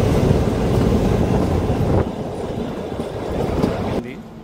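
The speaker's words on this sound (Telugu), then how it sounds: "ఇది మొత్తం స్టార్ట్ అయింది ఇప్పుడే ట్రైను" The Kalka–Shimla narrow-gauge toy train rumbles along the rails just after starting, a close, steady rolling clatter heard from inside the carriage that drops a little in level partway through, with a voice speaking over it.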